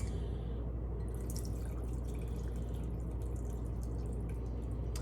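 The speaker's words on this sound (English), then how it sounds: "now we're going to strain this into our jar" Homemade elderberry syrup strained from the herbs into a jar, heard as a steady close trickle and drip of liquid over a low background hum.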